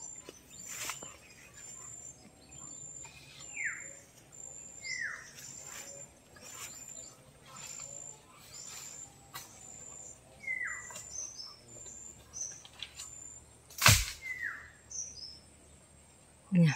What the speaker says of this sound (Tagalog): Dinig na dinig ang huni ng mga ibon.